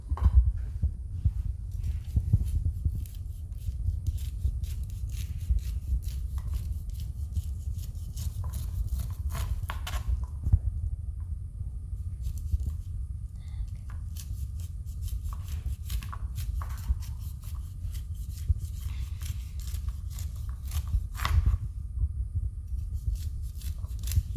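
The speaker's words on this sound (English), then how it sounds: "before I start cutting off the kernels on this corn" Knife slicing kernels off a fresh corn cob for a corn salad, giving a steady run of close, crisp scraping cuts over a low background hum with no talking.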